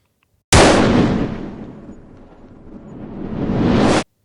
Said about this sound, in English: Gunfire echoed off the plaster walls as men dove behind benches